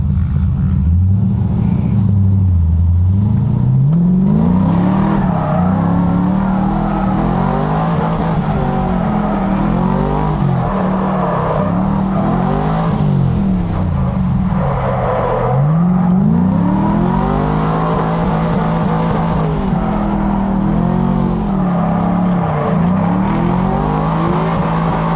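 Drift cars race on an oval dirt track, engines revving hard and rising and falling in pitch as they power through the turns, tires squealing and skidding, loud and continuous with no talk.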